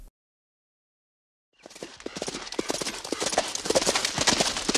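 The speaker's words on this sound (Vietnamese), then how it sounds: "Cố lên ngựa ơi, chúng ta phải chạy xuyên đêm nay thôi." A horse gallops through the night with rapid, rhythmic hoofbeats. The hooves start abruptly after a silent opening and stay close and fairly loud, growing steadily denser to the end.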